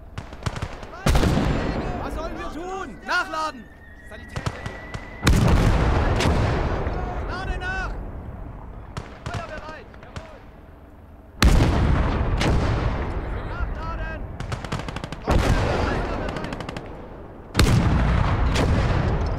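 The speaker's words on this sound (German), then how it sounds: "Permanenter Beschuss." Constant artillery shelling in the video game Gates of Hell: Liberation, heavy booming impacts landing every few seconds, each a loud blast that decays slowly, with scattered gunfire and faint voices in between.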